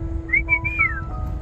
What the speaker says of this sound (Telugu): అగో మీ విజిల్ గుర్తుపట్టి దా బ్రౌనీ